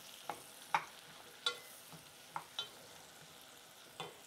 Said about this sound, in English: Always have the butter really hot and foaming. Put the mushrooms in.